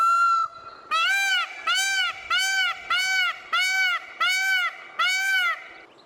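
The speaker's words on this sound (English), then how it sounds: "Peafowls usually call at dawn and dusk when they are most active." A peacock gives a series of seven loud, wailing honk-like calls in steady rhythm, each call evenly spaced and close by, with a quieter call at the start and no talking.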